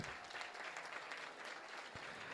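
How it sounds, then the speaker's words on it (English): Sustained audience applause greets the winners at a charity celebrity dance competition awards night, a dense, steady wash of many hands clapping with no gaps. "Another big round of applause for all our winners tonight"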